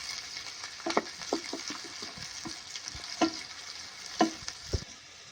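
Onions being browned in a pan for moong dal khichdi give a faint, low sizzle broken by soft stirring clicks and scrapes at irregular intervals, with no voices over it.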